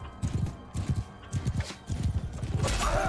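Horse hooves in the medieval combat game Mount & Blade 2: Bannerlord, rapid clip-clop galloping beats in bursts, with a whinny near the end over battlefield noise.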